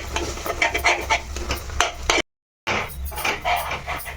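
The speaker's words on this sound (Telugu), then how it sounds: "ఇది బాగా వేయించాలి పొడి ఆడుతూ మంచిగా బాగా పట్టాలన్నమాట రొయ్యలకి మసాలా" Prawns coated in masala powder being stir-fried in a pan at home, with repeated close scraping and clinking of a spoon against the pan, a short silent gap midway, and no talk.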